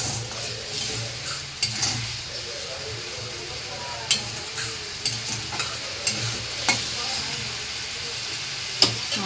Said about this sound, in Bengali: মশলাটাকে এবার আমি কষবো।